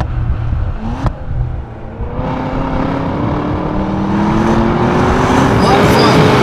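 Cadillac V-series cars, a 2016 CTS-V and a 2016 ATS-V with manual transmission, lapping Laguna Seca; a steady engine drone climbs in pitch as the car accelerates, loud and close, with a brief sharp knock near the start and no talk.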